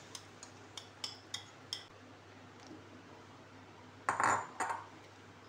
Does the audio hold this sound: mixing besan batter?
yes